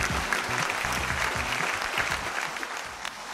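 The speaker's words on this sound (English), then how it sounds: "give them a really loud and resounding round of applause" An audience at a fuel-saving competition event gives a loud, sustained round of applause for the five finalist teams, dense clapping throughout with faint background voices.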